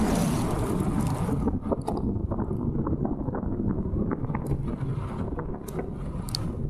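Strong wind roars steadily against the microphone of a cyclist riding country roads, a loud continuous rumble with light rattling clicks from the bike and no talking.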